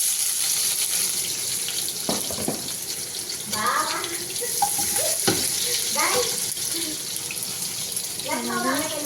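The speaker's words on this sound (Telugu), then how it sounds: "ఈ నూనెలో ఇప్పుడు ఉల్లిపాయలు వేసుకుందాం" Sliced onions dropped into hot oil in a pan hiss with a steady, loud frying sizzle that runs throughout, broken by a few scraping stirs, with some speech heard over it.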